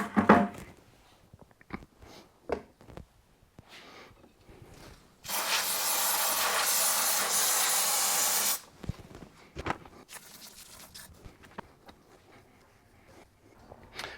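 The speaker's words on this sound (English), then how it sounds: "Lastly, we're going to clean this gas piston." An IWI Carmel rifle's gas piston gets cleaned with one steady aerosol spray burst of about three seconds, surrounded by scattered small handling clicks and taps.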